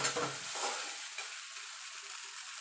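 Fried dried red chilies and onion being stirred into mashed flat beans for shim bhorta, a short close scrape and sizzle at the start that fades to a quiet steady hiss.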